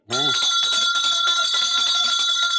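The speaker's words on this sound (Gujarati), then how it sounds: "આજે દરવાજાની ઘંટડી તૂટવાની" A house doorbell in a Gujarati stage play rings in a rapid, unbroken metallic trill, loud and close, right after a brief spoken exclamation.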